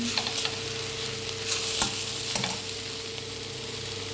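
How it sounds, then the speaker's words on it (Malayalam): Cabbage and carrot thoran is stir-fried in a pan with a continuous sizzle and occasional soft scraping strokes of the spoon, close and steady with no talk. "ഒരു മിനിറ്റും കൂടി ഇളക്കി കൊടുക്കാം."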